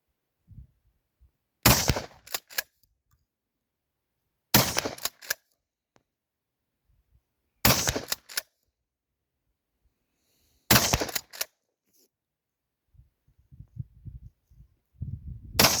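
Four loud, sharp 12-gauge shotgun slug shots spaced about three seconds apart, each with a short ringing tail, followed by faint rustling and handling noise.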